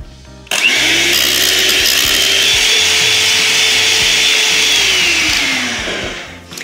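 A close electric hand mixer whips cream, whirring loudly and steadily for several seconds, its motor pitch holding level before winding down at the end.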